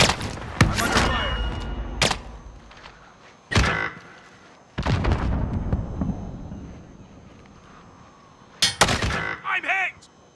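Gunfire in a video game, with single heavy shots and short bursts spread irregularly among quieter ringing and metallic clanks, some blasts loud and close, ending in a quick cluster of shots.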